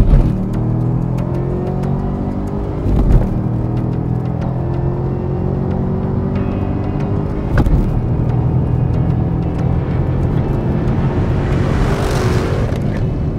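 A Chevrolet Camaro ZL1 launches hard from about 4,000 RPM, its engine roaring loud and close as it pulls through quick gear shifts, each shift breaking the steady rising drone.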